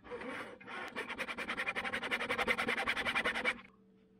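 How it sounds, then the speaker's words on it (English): Sides being cut with a mini hacksaw and a regular hacksaw along a masking-tape guide, heard as a quick, even series of rasping back-and-forth strokes, close and fairly quiet, ending abruptly. "time to cut out these sides with a combination of mini hacksaw and regular hacksaw"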